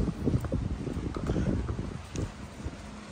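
Strong cyclone winds gust along the seafront at Balneário Camboriú, a loud, uneven rush buffeting the microphone in rough bursts throughout.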